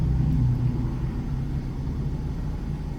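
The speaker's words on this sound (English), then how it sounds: "The engine isn't that loud. It's idling nice." A 2023 Chevy Silverado LTZ pickup's engine idles at a steady, quiet low rumble, heard from inside the cab with no talking.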